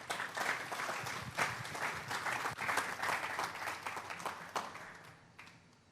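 A church congregation applauds during a sermon, a dense wash of many hands clapping that swells and fades with a few sharper peaks, tapering off toward the end.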